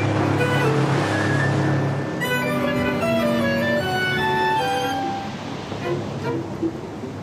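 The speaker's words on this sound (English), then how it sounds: "Captain Sandy decided to run us through the whirlpool." A boat is run through a whirlpool off Scotland, with loud continuous rushing water and surging waves close by, broadband churning that swells and eases over several seconds, with wind buffeting the microphone.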